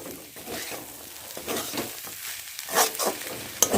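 Spinach fries in a pan with lentil dumplings and chickpeas, giving a soft, faint sizzle broken by intermittent stirring scrapes and a sharp clink near the end.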